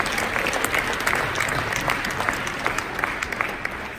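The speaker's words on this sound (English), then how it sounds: "Snap your fingers for me." A crowd snapping their fingers together, a dense, steady crackle of many small sharp clicks that runs continuously at a fairly loud, even level throughout.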